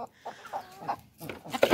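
A rooster clucks close by in a short run of low, rhythmic clucks that grow louder and busier toward the end, with no one talking.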